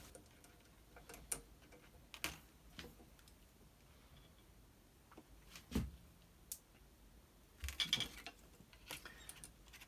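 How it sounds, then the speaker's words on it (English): Mechanical clicks and clacks of a Klippermate racquet stringing machine as string is pulled to tension and gripped with a triple clamp, a handful of sharp, close ticks spaced irregularly over faint background hiss. "I'm going to pull a string and clamp it with a triple string, the triple clamp"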